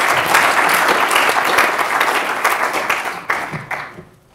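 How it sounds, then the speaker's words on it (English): An audience at a policy results launch applauds the panel members, a full round of many hands clapping that holds steady, then thins and fades out toward the end. "So if we can give them a round of applause."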